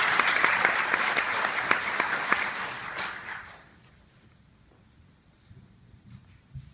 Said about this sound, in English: applause already for that one.